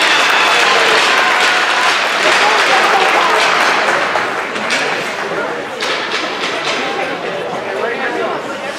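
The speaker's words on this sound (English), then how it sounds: "Put your hands together for senior forward" Loud, sustained applause and cheering from a crowd in the stands at a high school senior night ceremony, holding strong for several seconds and then easing slightly but continuing.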